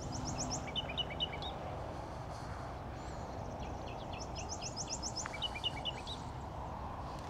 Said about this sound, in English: right by here is a nightingale singing.